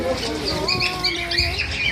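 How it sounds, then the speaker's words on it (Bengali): Black cockatiels squawk in short, shrill bursts close by in a bird shop, with chirpy calls layered over faint background voices. "এখানে কিছু কালো ব্ল্যাক ককাটেল আছে।"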